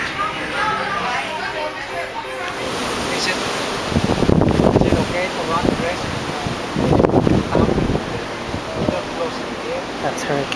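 Strong wind buffets the microphone over choppy, surging seas in the Gulf of Mexico as Hurricane Isaac approaches, with louder wave crashes or gusts swelling twice amid a steady roar and a faint murmur of voices.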